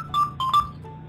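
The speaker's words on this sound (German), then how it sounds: "Oh, bei mir hat gerade Telefon geklingelt." A telephone ringing inside a SimCity game session. It gives three short electronic trilling bursts close together over a low steady background hum, then stops.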